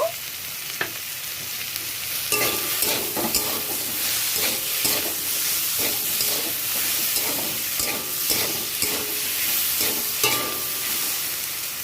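A paste of sesame, green chili, black mustard and garlic is stir-fried in a pan with okra, a steady close sizzle broken by repeated rhythmic spatula scrapes and knocks.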